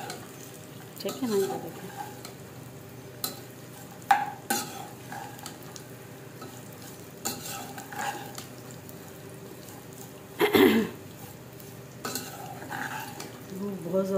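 Dry fruits being roasted and stirred in a pan for kheer, with intermittent scraping and clinking of a utensil against the pan over a low background, while someone speaks briefly.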